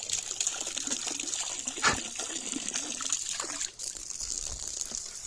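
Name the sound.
dog lapping drinking water from bowl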